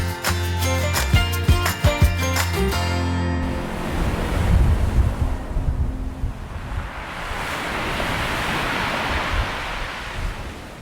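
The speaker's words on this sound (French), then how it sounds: "comme il fait très venteux" Strong wind and breaking waves on the Cotentin coast roar in a broad, continuous wash, with blustery gusts buffeting the microphone after a few seconds of music fade out.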